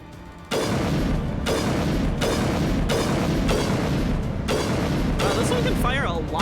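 Rapid bursts of gunfire from a weapon that fires many shots in the sci-fi video game Mass Effect, a dense, loud, continuous rattle broken into several long volleys with brief pauses.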